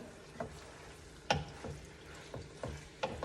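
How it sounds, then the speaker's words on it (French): A spoon stirs a deconstructed stuffed bell pepper mixture in a pan to reheat it, with soft scraping strokes at an irregular rhythm over a faint sizzle, close by and without voices. "je les mélange pour qu'ils se réchauffent un petit peu"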